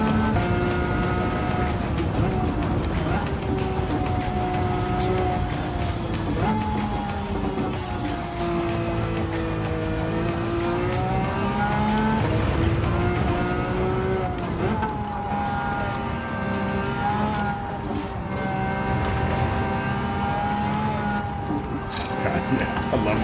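Loud, sustained Lamborghini Aventador engine howl in Gran Turismo 7, revving up and easing off through repeated shifts with some skidding, while voices talk faintly underneath.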